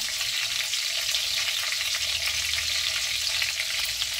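Food sizzles and crackles steadily in a hot pan, cooking until golden brown, a continuous close frying hiss with faint stirring.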